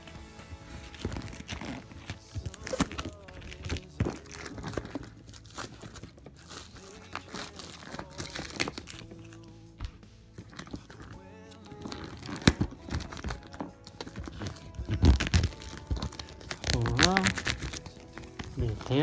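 A package sealed with lots of tape being opened for a capture-card unboxing: ongoing crinkling, tearing and crunching of tape and packaging, close up, with someone talking over much of it.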